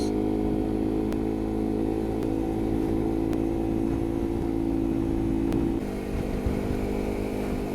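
Motorcycle engine accelerating steadily on a road ride toward Ciwidey and Jakarta, a loud, continuous droning rumble with rising pitch and a brief easing near the end, close and with no talk.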